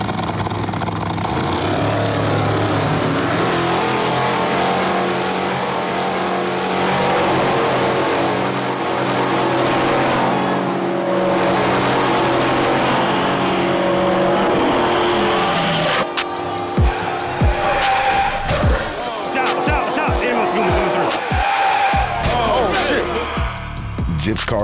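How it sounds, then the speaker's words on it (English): Drag racing cars launching and accelerating down the track, a loud, sustained engine roar that runs throughout before breaking into harsh, choppy bursts, with people talking over it. "The race starts when Bruce hits the gas"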